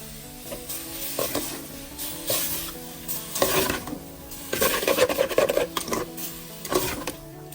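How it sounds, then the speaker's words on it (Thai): Pork curry (kaeng om) is stirred and fried in a pan, with scraping and rubbing strokes coming in uneven bursts over a soft sizzle, close by and without speech. "เดี๋ยวก็คนคนคนขัวขัวพี่น้อง"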